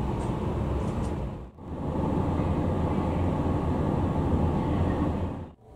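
Low, steady rumble aboard a special limited express in old JNR livery as it departs Omiya Station on a Musashino Line routing, broken by two brief dips in the noise.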